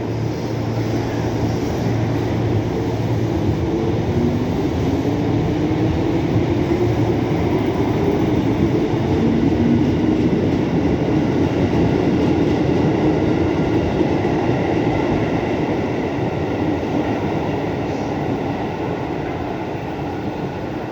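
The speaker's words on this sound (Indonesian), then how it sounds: "Seperti inilah suasana di stasiun Cikini." A KRL commuter train rumbles through Cikini station with a loud, steady roar, rolling wheel clatter and a rising whine through the middle, with no talk, for about twenty seconds.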